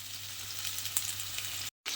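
Strips of bottle gourd frying in hot oil with a steady, bright sizzle that is briefly stirred, ending in a short dropout before the sizzle resumes.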